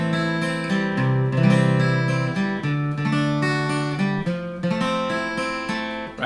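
An acoustic guitar plays the House of the Rising Sun picking pattern: a low bass note, a slow strum, then three picked notes, ringing clearly and alone in a steady, unhurried rhythm.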